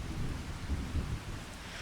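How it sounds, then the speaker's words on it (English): Rain falling in the farming video game Farming Simulator 25 on the Kinlaig map, a quiet steady hiss of rainfall with a soft low rumble underneath, continuous and faint. "As the rain settles in over Kinlaig"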